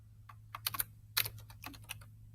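Typing on a computer keyboard while working in Google Docs: a quick, irregular run of close, light key clicks over a faint low hum.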